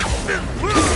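The Accio summoning spell in the video game Hogwarts Legacy, a short loud magical whoosh with creaking, sweeping tones lasting about a second, alone.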